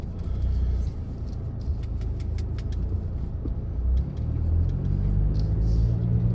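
A car drives through the Kensington neighborhood of Philadelphia with a steady, loud engine and road rumble heard from inside, plus faint ticking clicks, and no talking.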